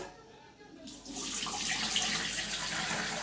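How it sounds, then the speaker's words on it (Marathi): After a quiet second, water from cooked lentils suddenly pours out and keeps rushing steadily through a strainer set over a pot, close and moderately loud. "आता डाळीतलं पाणी काढून घेते मी पातेल्यावरती चाळणी ठेवलेली आहे"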